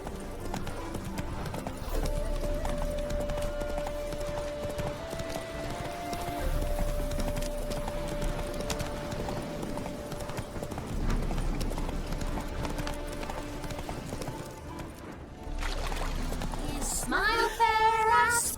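Hooves clip-clop steadily as the horse Roach gallops in The Witcher 3, a continuous rhythmic beat under game music and ambience, with a brief whinny near the end.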